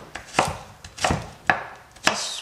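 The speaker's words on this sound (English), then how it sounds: "So just chop up some garlic" A knife chops garlic on a cutting board in four firm, evenly spaced strikes with lighter taps between, close and crisp with no voices.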